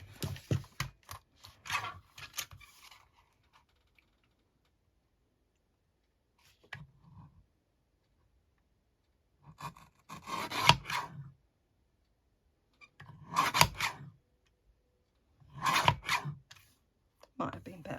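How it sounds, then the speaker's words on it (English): A small paper trimmer cuts pages from an Alice in Wonderland book in short, quiet bursts of scraping and slicing strokes, separated by near-silent pauses in a calm indoor setting. "So I'm going to use my little trimmer"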